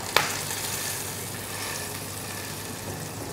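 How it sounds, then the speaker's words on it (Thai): Salmon frying skin-side down in a hot pan at a home breakfast stove, a steady soft sizzle with a brief clink at the start and no talking. "เวลาเอาปลาลงแล้วเนี่ย ให้กดปลาไว้สักพักหนึ่งเพื่อที่ว่าหนังจะได้แนบสนิทไปกับตัวกระทะ"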